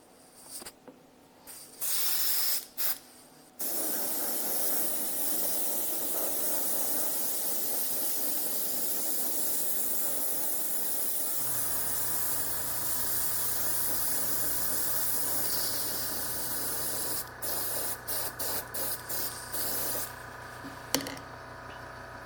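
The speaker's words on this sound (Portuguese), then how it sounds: "Um vernizinho fosco com aerógrafo para selar tudo isso" Airbrush spraying matte varnish onto a painted model, a steady soft hiss that starts after a few brief bursts and runs continuously, with a low compressor hum joining partway and short stuttering bursts near the end.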